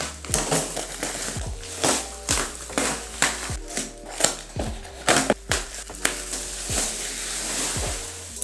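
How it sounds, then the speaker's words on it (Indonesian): A secondhand 2017 MacBook Pro being unboxed up close, with steady crinkling, scraping and tearing of packaging broken by sharp rhythmic knocks and thuds, loud and busy throughout, no voices. "Untuk sekarang kita langsung aja unboxing unitnya."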